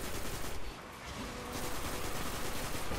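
Gunfire in the Destiny video game, Iron Banner mode: a dense, loud, continuous barrage of shots filling the clip, easing briefly near the start before resuming at full intensity.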